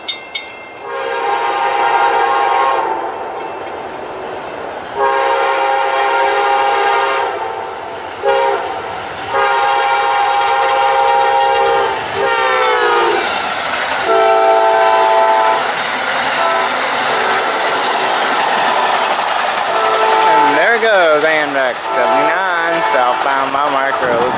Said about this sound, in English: we got the Amtrak 79 southbound